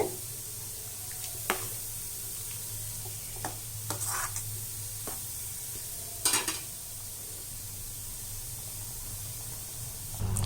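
A pot of carrot-beans kootu stew bubbles and hisses steadily at close range, with occasional soft clinks and scrapes of a utensil against the metal.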